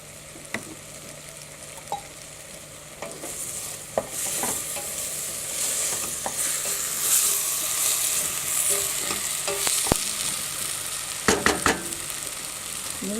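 Vegetables for chicken soup sizzle steadily in a pan, with scattered clinks and scrapes of stirring, a few louder knocks near the end, and no talking.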